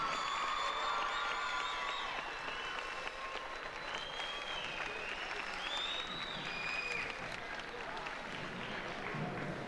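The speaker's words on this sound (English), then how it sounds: "A nice round of applause for our great basketball team." A school crowd applauds a state championship basketball team with a broad, continuous roar of clapping and some cheering and whistles, somewhat distant and steady throughout, with scattered voices mixed into the noise.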